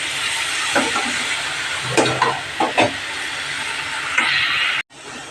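Prawns and banana flower are stirred in a hot pan, giving a steady frying hiss with several soft scrapes and knocks of the spoon, before the sound cuts off near the end.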